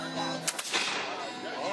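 A single sharp gunshot from a muzzle-loading black powder gun cracks out, followed by a short rumbling decay, with a voice speaking faintly around it.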